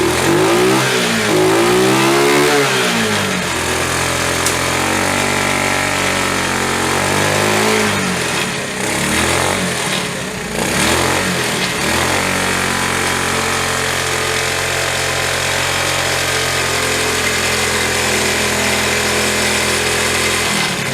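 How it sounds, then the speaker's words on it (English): A Honda Trail CT70 motorcycle engine, left sitting for over 20 years, runs and revs up and down, with a buzzing exhaust and loose parts underneath rattling and chattering throughout, close and loud. "This thing is loose underneath the engine. It's doing some rattling."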